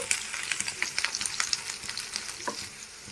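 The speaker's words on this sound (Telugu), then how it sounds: "ఆనియన్స్ అయితే ఫ్రై అవుతున్నాయి" Onions frying in oil in a pan for chicken fry biryani, a steady close crackling sizzle with quick spatter pops and light stirring scrapes throughout.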